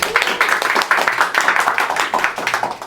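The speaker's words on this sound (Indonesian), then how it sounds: "Boleh minta tepuk tangannya?" Dense audience applause, many hands clapping steadily and fairly loudly for about three seconds, with no clear speech over it.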